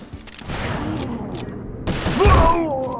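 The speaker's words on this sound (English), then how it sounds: "Wait, who's shooting at me?" Gunfire from the Sly 4 video game aimed at the player, a quick burst of shots and thuds under game sounds, with a louder impact near the end.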